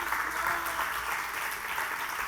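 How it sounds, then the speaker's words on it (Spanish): Congregation applause in a church, a steady, even wash of clapping heard at a distance with no clear individual claps. "O dale ese aplauso a Dios."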